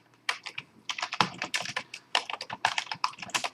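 Rapid, irregular typing on a computer keyboard, with close, crisp key clicks in uneven bursts and short pauses.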